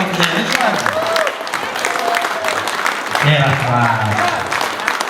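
An audience claps steadily and warmly throughout a school gathering, the applause continuous and fairly loud while someone speaks over it.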